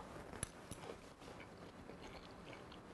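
Butter-glazed carrots with chives being bitten and chewed up close, soft crunchy bites with a couple of sharper crisp snaps early on, then quieter mastication throughout.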